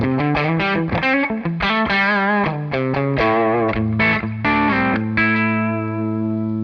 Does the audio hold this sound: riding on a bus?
no